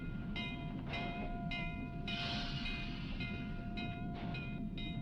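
A train running on a railway track in the video game Starstruck: Hands of Time, a constant loud rumble with repeated whistle-like tonal blasts on top, looping steadily throughout.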